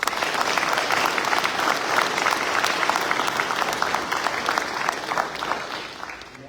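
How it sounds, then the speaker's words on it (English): Sustained applause from an audience at a US Navy retirement ceremony, steady dense clapping throughout with no voices over it. "Clap it up."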